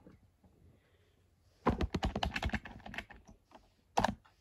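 New computer keyboard being typed on at close range, a quick burst of clattering keystrokes followed by a pause and a final pair of taps, in a quiet room.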